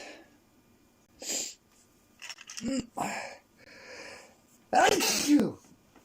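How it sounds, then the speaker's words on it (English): A couple of sharp sneezes burst out close by, with breathy snorts and sniffs in between and quiet background noise. "No, I started sneezing again."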